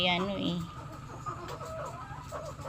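A chicken with a lame wing and leg clucks nearby over a low background hum, with a few short squawks and soft murmuring calls.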